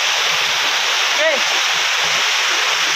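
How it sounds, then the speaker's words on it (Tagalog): Steady broadband roar of a waterfall at a countryside swimming spot, loud and continuous throughout, with a brief faint voice-like chirp near the middle. "Paalam muna sa falls."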